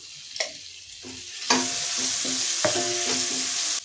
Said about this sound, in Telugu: నెక్స్ట్ అల్లం ఎల్లిగడ్డ పేస్ట్ యాడ్ చేస్తున్నాను 1 స్పూన్